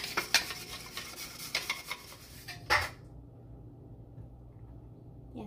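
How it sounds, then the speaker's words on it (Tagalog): A spoon stirs a food-coloured liquid in a bowl, with quick repeated clinks and scrapes against the sides for about three seconds before it stops, leaving quiet room tone. "Huwag lang masyadong i-mix yan kasi magkakaroon siya ng maraming bubbles."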